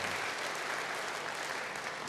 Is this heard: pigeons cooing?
no